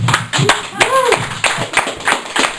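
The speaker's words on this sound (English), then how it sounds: "if we could have another huge round of applause there" An audience claps for the poet Sam Loveless after his performance, a short burst of applause with scattered taps, while a voice speaks over it.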